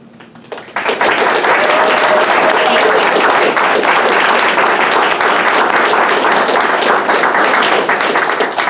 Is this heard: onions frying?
no